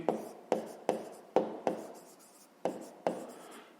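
Pen strokes on paper while a fifth-grade math exercise is worked out by hand: a steady series of sharp, close scratches, each fading quickly, with no voice.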